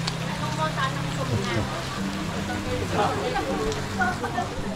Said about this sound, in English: We can wait till it quits raining.